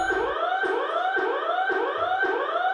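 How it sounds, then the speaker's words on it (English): Containment breach alarm in the SCP: Doki Doki Anomaly game, a loud rising-and-falling siren wail repeating in steady cycles about every half second, blaring continuously with low thuds beneath. "Minutes later, the containment breach alarm blares to life."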